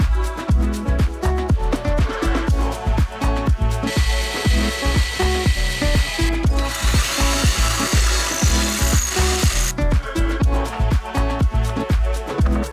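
A hand ratchet clicks in rapid, rhythmic bursts while bolting cross members onto a van roof deck frame, loud and close with brief pauses between runs of strokes.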